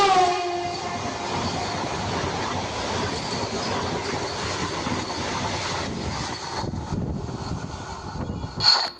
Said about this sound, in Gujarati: સો તમે જોઈ શકો છો અમારી ટ્રેનનું વિસલ વાગી ગયું છે.